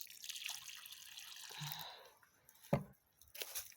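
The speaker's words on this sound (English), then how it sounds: "I'm just going to water slowly." Water trickling slowly onto the soil of a large potted Concertina reblooming bearded iris, giving soft drips and wet splashes near the microphone with one sharper splat partway through, quiet overall.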